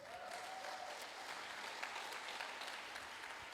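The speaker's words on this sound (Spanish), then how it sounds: "¿Por qué no le damos un aplauso al Señor?" A church congregation applauds, a faint, steady wash of many hands clapping that holds evenly throughout.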